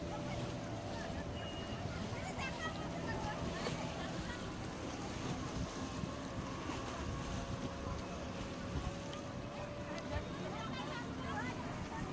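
A boat moves across open water at Maithon, with a steady rush of wind and water noise throughout and muffled voices of people on board.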